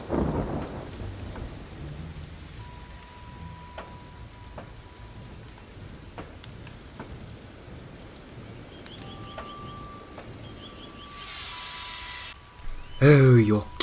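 Steady rain falls in a storm, with low thunder rumbling beneath it and a few sharp, louder bursts near the end.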